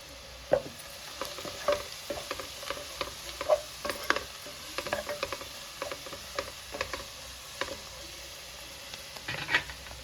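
A paste of green chili, onion, cumin and salt is scraped and stirred around a frying pan for Telugu gudaalu, with soft sizzling under repeated spatula scrapes and taps, fairly quiet and close.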